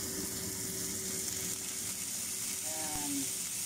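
Corned beef and potatoes stir-frying in a pan give a soft, steady sizzle with faint stirring scrapes, quiet and continuous, with no voices.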